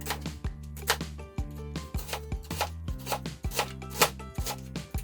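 Knife thinly chopping shallots and red onion on a cutting board, a steady run of crisp, evenly spaced chops close up, with no talking.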